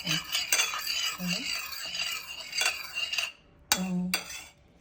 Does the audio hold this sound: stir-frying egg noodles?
yes